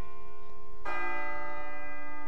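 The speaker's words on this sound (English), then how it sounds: "It sounds like a bell, but where's it coming from?" A church-like bell tolls in Persona 3 FES: a faint ringing tail, then a loud fresh strike partway through that sustains with bright overtones, with another strike starting at the very end; no voices.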